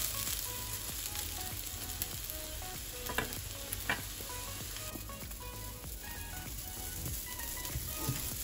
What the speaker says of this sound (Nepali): अब यसलाई अलि अझै भुट्न बाँकी छ हल्का।